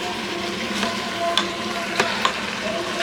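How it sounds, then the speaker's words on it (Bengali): Chicken sautéed and stirred in a Nutripot pressure cooker for a creamy dudh chicken curry: a steady close sizzle with a few sharp scraping clicks of a spoon against the pot. "চিকেনটা এখন যেহেতু কষা হচ্ছে, তাই এখন রাখা হয়েছে ভুনাতে, সটেতে।"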